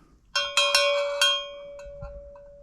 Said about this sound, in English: That's a cowbell.